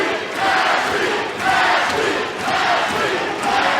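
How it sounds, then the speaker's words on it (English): An arena crowd at a women's MMA fight in Miami chants for Ashlee Evans-Smith, a loud, rhythmic roar that swells and dips in repeated waves as the chant cycles. "They're all chanting for Ashlee Evans-Smith"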